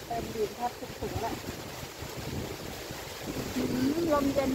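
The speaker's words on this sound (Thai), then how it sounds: "ลมเย็นมากเลยค่ะเย็นชื่นใจเลยลม" Cool wind blowing outdoors in a garden where mango seedlings are being potted: steady broadband rushing and buffeting with microphone gusts, moderately loud throughout, with someone speaking and faint birdsong over it.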